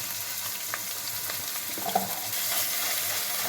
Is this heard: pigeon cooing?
no